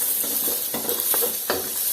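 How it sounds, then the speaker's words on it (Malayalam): Thin lengthwise carrot slices sautéing in hot oil with a steady sizzle, broken by a few soft stirring scrapes in a home kitchen, close and fairly loud with no voices. "ഓയിൽ ചൂടായി വരുമ്പോഴത്തേക്കും നമുക്കതിലേക്ക് ക്യാരറ്റ് ഇട്ട് കൊടുക്കാം."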